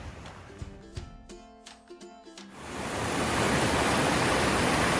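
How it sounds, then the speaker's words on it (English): Man-made waterfalls on a stream in a state park, a steady roaring rush of water swelling up loud and close after a few seconds of quieter sound and a brief tonal passage. "these waterfalls down this stream are man-made"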